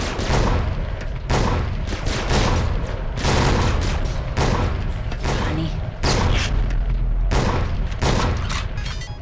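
Shotgun fire in a video game, loud booming blasts repeating roughly every second or so, each with a sharp attack and rumbling tail, close and dominant.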